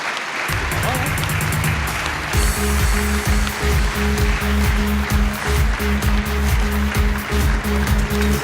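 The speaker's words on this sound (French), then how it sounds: "je vous demande d'applaudir M. Louis Nicolin." Loud, sustained applause fills a sports awards ceremony honouring Louis Nicolin, with a rhythmic music track joining in partway through.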